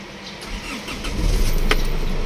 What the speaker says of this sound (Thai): สตาร์ททีเดียวติดตื้มเลยพี่น้องเอ๋ย